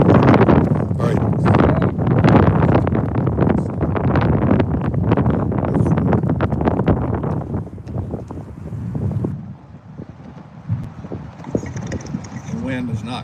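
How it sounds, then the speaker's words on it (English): Wind buffeting an outdoor microphone at a Memorial Day service in a park, loud rumbling gusts that dominate the first half and ease off later, with a voice partly heard beneath the noise. "The wind is not cooperating, so."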